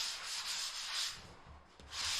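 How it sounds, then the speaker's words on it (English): A sanding sponge rubbed by hand into drywall internal corners, giving a continuous scratchy rasp in several strokes with a short pause near the end, close and fairly quiet. "We use the sanding sponge just to get right into that three-way."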